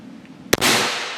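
A Crosman E9A air pistol, its black paint stripped, fires a single pellet: one sharp, close crack, then a broad hissing wash that slowly fades.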